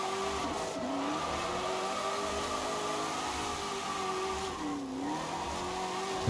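Engine of a 1,000-horsepower all-wheel-drive car in the Forza racing game, a steady loud drone holding pitch with two brief dips as it shifts or lifts, continuous and close with no talking.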